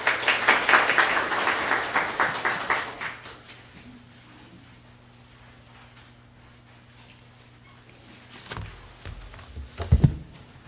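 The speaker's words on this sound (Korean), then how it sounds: "큰 박수로 환영해 주시기 바랍니다." Audience at a food and drug safety open forum applauds a presenter with loud, dense clapping for about three seconds, which quickly dies away into a quiet hall with a low hum and a few soft thumps near the end.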